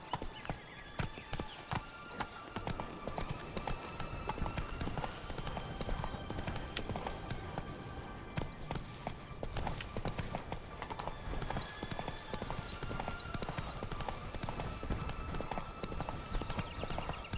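Steady hoof clip-clop of a horse galloping in The Witcher 3 video game, a continuous rhythmic thudding beat running throughout, close and fairly loud, with a faint whinny and game music underneath.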